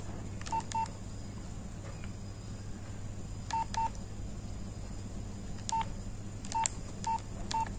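An old Nokia 8250 mobile phone's keypad beeps as buttons are pressed: short single and paired tones in sparse clusters over a quiet room hum.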